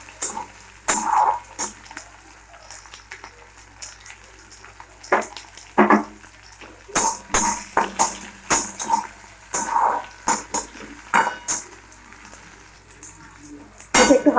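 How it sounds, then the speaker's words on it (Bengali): Vegetables with chopped green chillies lightly frying in a pan give intermittent sizzling bursts and stirring clatter, fairly close and alone with no talk. "এটাকেও আমরা হালকা করে ভেজে নেব।"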